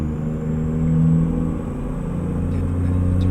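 A Cummins NTC Big Cam diesel engine in a Mack R truck in American Truck Simulator drones steadily with a deep, rich harmonic rumble that swells slightly and settles, heard alone without talk.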